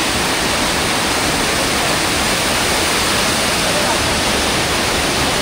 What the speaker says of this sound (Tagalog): Ayun yung second, yung may malalim na falls